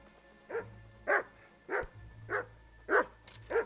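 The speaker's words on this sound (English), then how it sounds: "What are you barking at, mate?" A dog barks six times at a slow, even pace over a low background hum, each bark short and moderately close.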